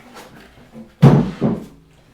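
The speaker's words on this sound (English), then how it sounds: "step one is to pop all the drawers out" A wooden drawer is pulled out of an old furniture piece, giving a heavy wooden thunk followed by a second softer knock, close and loud in a quiet room.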